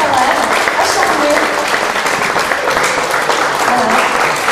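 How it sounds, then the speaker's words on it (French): A theatre audience at the Petit Théâtre à l'Italienne in Guéret applauds the builders of a carnival float: dense, loud, continuous clapping from a crowd, with faint voices mixed underneath. "on peut les applaudir parce que c'était 4 mois de travail, acharné"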